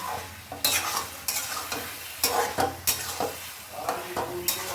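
Potatoes tipped into a hot pan and stirred, with repeated scraping strokes and clinks of a utensil over a low sizzle, in irregular bursts at an outdoor family picnic.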